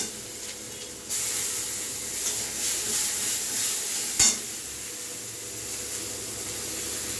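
Ginger garlic paste dropped into hot oil with bay leaves and dried chillies for khichuri, bursting into a loud, steady hiss and sizzle with a brief clatter partway through.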